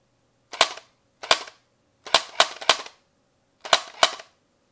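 Light gun trigger pulls from a P99L recoil toy, about seven sharp snapping cracks fired singly and in quick pairs, loud and close with silence between the bursts.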